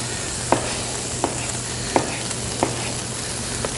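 Italian pork and beef sausage with fennel sautéing in a pan, making a steady close sizzle with a few soft, evenly spaced taps or pops on top, and no talking.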